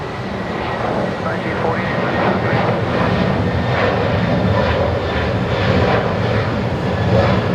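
A jet airliner takes off from Brisbane Airport during a cyclone evacuation, its broad engine roar steady and sustained throughout, with voices talking over it.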